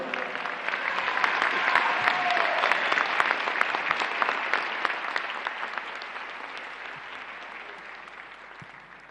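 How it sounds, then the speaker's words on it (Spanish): Large audience applauding at the official inauguration of a political forum in Bolivia, a dense, sustained wall of clapping that swells early and then slowly fades, with no voices over it. "Le brindamos un fuerte aplauso."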